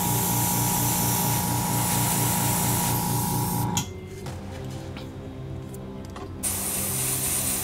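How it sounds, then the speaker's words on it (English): An airbrush hisses paint onto the panels of an Imperial Fists Redemptor Dreadnought model. A steady spray with a compressor hum runs throughout, then pauses briefly and starts again. "Our focus right now is all on the airbrushing to make sure that the color looks right on those panels"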